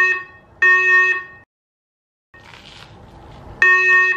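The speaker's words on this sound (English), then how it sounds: "The fire alarm, 1 second." An indoor fire alarm sounds during a fire drill: loud, harsh electronic buzzer blasts in short bursts, then a pause and a muffled stretch before the piercing tone returns.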